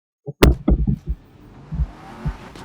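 A Mercedes in the video game Need for Speed Most Wanted 2012 gives a short burst of engine and tire noise, a sharp rev followed by a few quick thumps and a fading rumble, with no talk.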